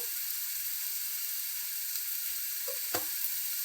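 Spices and onion paste fry in oil for an Andhra-style fish curry, a steady close sizzle with a couple of brief stirring scrapes near the end.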